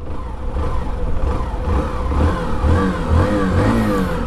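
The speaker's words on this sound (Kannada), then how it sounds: "ಸೊ ಇದರಲ್ಲಿ ಬರುತ್ತೆ ನಿಮಗೆ 113cc engine, air cooled 113cc engine" A Hero motorcycle with a 113cc air-cooled engine runs at close range with a steady, mid-pitched putter and mild throttle rises over a few seconds, with no talk.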